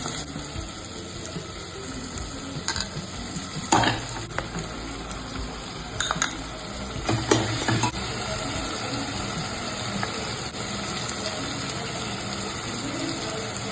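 Oil and ingredients fry in a pan with a constant hiss, punctuated by clanks and scraping utensil strokes around the middle, with a faint watery wash beneath.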